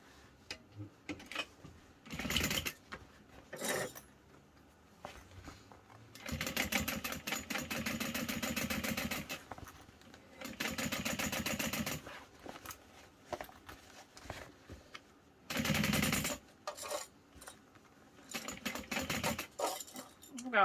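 A sewing machine stitches through layered backpack pocket pieces in several separate runs of rapid mechanical whirring, some short and some sustained, with quieter handling sounds between bursts.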